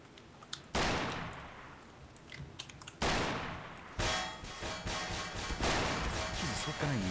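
Rapid M4A4 rifle fire in Garry's Mod during a base-attack match, several loud bursts that cut in and out over several seconds, with gamers' voices in the mix.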